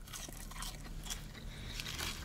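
Close, crisp crunching and biting of KFC fries, steady mouth-level chewing sounds running continuously with no talking.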